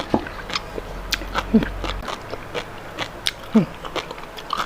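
Sea grape seaweed is bitten and chewed in repeated crisp, close-up bursts with small pops between them, and soft background sounds throughout.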